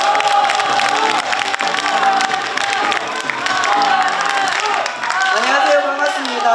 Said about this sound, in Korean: 서은숙 최고위원님을 역시 큰 박수로 무대 위로 모시겠습니다